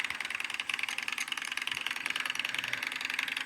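Motorcycle engine in the Roblox game Mad City, a steady buzzy drone with a fast ratcheting rattle running continuously at even loudness, with no talking.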